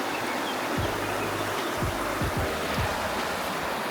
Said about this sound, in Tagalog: Dito kasi, lakas yung alon